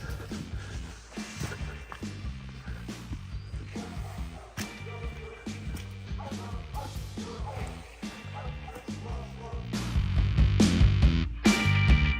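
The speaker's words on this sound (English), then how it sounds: "was a crescendo of barking dogs a moment ago" Several dogs bark and yip repeatedly on a countryside walk near a reservoir, a busy overlapping chorus with some whimpers, fairly close and growing louder toward the end.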